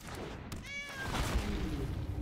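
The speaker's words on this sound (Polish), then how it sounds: "Cat Dragon robi miau" A single short, high meow comes from the Cat Dragon card in the MTG Arena video game, heard once over soft background hum.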